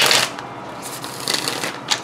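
A deck of tarot cards is shuffled close up, giving quick papery riffles and flutters in short bursts over a couple of seconds.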